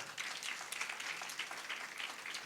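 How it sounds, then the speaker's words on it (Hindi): Congregation at a Sunday church service clapping together, a soft, steady patter of many hands heard from some distance. "ताली बजाइए उस परमेश्वर के लिए।"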